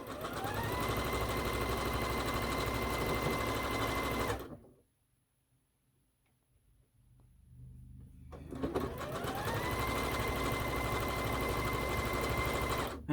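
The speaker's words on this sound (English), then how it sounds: "And I'm just chain piecing these all together" Sewing machine chain piecing quilt four-patches, a steady loud mechanical whir that runs continuously, pauses for several seconds, then starts up again at the same speed.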